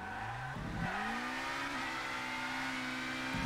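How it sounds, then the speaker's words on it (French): A touring race car in the Toca Race Driver BTCC championship on PS2 drones with a steady engine tone that drops as it brakes hard, with brief tire-scrub bursts near the start and end. "Oh là, le gros freinage."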